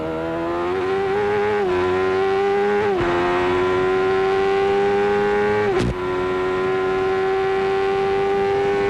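A 1993 CART IndyCar race car at Elkhart Lake screams loudly at high revs, its pitch climbing and dropping sharply with several quick gear changes and a harsh downshift blip near the end.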